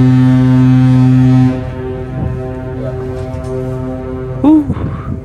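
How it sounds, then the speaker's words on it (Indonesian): A deep, loud ship horn blares steadily for over a second as the passenger ship KM Leuser docks at Agats, Papua, then cuts off, leaving a rumbling echo with engine noise and a brief voice. "Nah, tuh udah klakson tuh."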